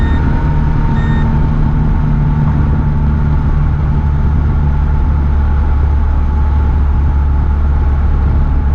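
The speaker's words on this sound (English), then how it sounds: "The speed alarm still goes even if you're just rolling." Speed alarm in a 1983 Honda Acty Street kei van, a few high beeps near the start over a loud steady engine drone that carries on throughout.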